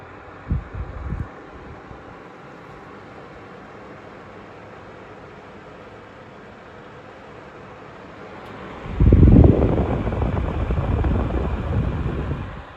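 A 12-inch Sharper Image Vornado spin table fan switches up to its high setting, and a steady broadband airflow whoosh swells from about nine seconds on and holds loud and close to the end.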